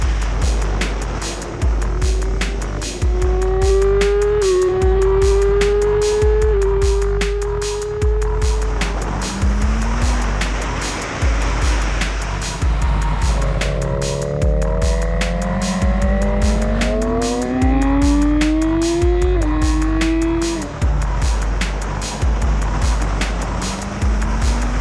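A BMW S1000RR superbike screams through repeated upshifts on a track test in Portugal, engine pitch climbing steeply then dropping at each gear change, loud and sustained over rushing wind noise.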